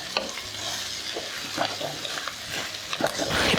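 Turmeric and ginger garlic paste fry and sizzle in a pan while being stirred for a tomato moong dal curry, with steady close sizzling and scraping stir sounds throughout.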